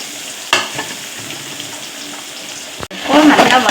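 Finely chopped onions hit a hot pan and burst into a loud, close sizzle after a short quieter stretch of clatter at the start.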